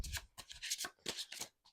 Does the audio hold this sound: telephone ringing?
no